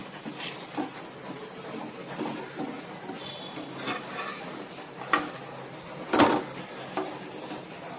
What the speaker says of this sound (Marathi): आता हे मी वरतून तूप सोडतोय आणि हा आता खरपूस आपण भाजून घेतोय